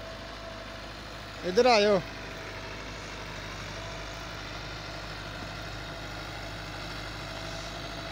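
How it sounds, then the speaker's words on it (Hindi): A new 2024 model 385 tractor idles with a steady low engine drone throughout, while a voice briefly calls out over it near the start. "पहली बार इन्हें चेक करो, 385 ट्रैक्टर है, 2024 मॉडल है, न्यू।"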